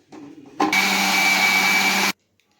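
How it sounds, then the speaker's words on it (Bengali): An electric mixer grinder whirs loudly for about a second and a half as it blends soaked lentils with green chilli, ginger and a little water into a paste, starting abruptly after a quiet moment and cutting off cleanly. "এখন এই ডালগুলোকে মিক্সির মধ্যে পেস্ট করে নেব"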